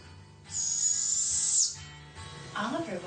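Orphaned baby owls at a wildlife refuge give a long, loud, close rasping hiss-like screech lasting about a second, followed by softer sounds and a wavering call near the end.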